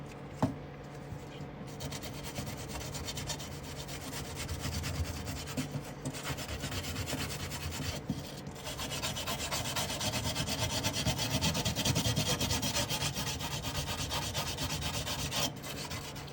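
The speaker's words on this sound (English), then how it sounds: "you have to clean the sink" A sink is scrubbed and cleaned before fitting, a steady close-up rubbing and rasping that continues for the whole stretch at moderate loudness, with no voices.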